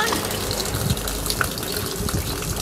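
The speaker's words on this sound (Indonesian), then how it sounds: "Ya, kayak air mancur ya di situ ya." Water gushes like a fountain into a swimming pool, a continuous loud splashing rush close by, with voices talking over it.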